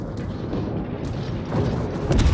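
Naval ship guns fire at the Phoenix in a sea battle game, heard as heavy rumbling booms and blasts layered over a dense roar, growing louder toward the end.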